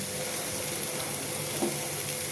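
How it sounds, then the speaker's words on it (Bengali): Fried potato and pumpkin pieces cooking in a pan with red chilli powder, giving a steady, close sizzle with a faint stirring scrape partway through and no voices. "তারপরে ভেজে রাখা আলু কুমড়ো দিলাম, তারপরে লাস্টে শুটকি মাছ। এবারে ভালো করে কষিয়ে"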